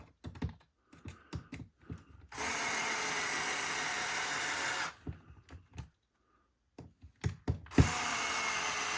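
A small battery-powered electric screwdriver whirs in two steady bursts of a few seconds each while parts of a Tamiya TT02 RC car kit are assembled, with light clicks and handling sounds between runs.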